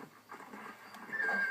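A horse neighs in the Red Dead Redemption video game, a short faint whinny with a high tonal cry near the end, heard alone over quiet game ambience.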